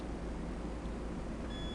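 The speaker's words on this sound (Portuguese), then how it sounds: "Bipando." A multimeter beeps steadily on a continuity test during repair of an ATX computer power supply, a thin continuous tone under a broad background hiss.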